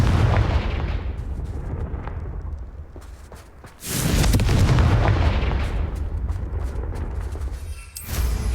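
Spell explosion from the Confringo fire charm in the Hogwarts Legacy video game: loud booming blasts, one around four seconds swelling into a sustained roar, another burst near the end, with no voices.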